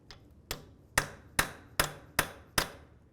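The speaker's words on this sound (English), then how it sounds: "Now let's use a hammer and punch." Hammer driving a punch against the center of a front left CV axle on a 2000-2005 Buick LeSabre to break it free from the wheel bearing, seven sharp metallic strikes at an even, unhurried pace, close and clear.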